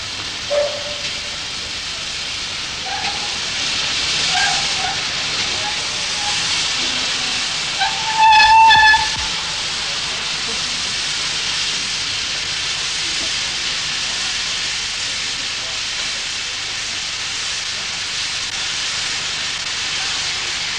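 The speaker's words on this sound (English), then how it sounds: "L94 slowly creeps forward to greet its fans and stops for the many hundreds of cameras and recorders." Steam locomotive L94 creeping slowly forward on London Underground track, giving a steady broad hiss of steam throughout with a brief louder burst and whistle-like tones partway through, heard at moderate distance with no talk.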